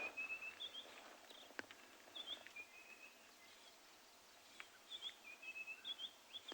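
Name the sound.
robins and cisticolas singing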